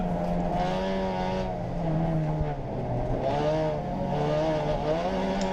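Mazda race cars driving on a racetrack, engines rising and falling through gear changes with a throaty buzzing tone, one car close and others nearby, loud and continuous with brief lift-offs between pulls.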